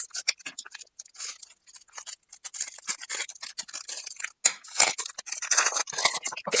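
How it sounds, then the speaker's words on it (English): Scissors snip open a small package of nail art supplies with a quick run of crisp, close cutting clicks and crunches, alone and fairly soft. "let's just cut this open quickly."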